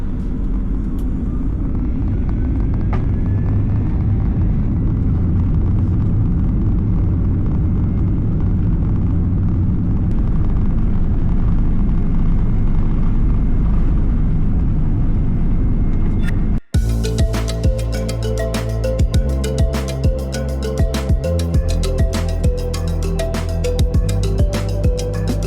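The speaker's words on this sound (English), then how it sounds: "It took about 45 seconds to get airborne with just half of the runway used." Airliner taking off down a 4,500-meter high-altitude runway in western China, a loud continuous engine roar and rumble heard from inside the cabin for about seventeen seconds before cutting abruptly to other sound.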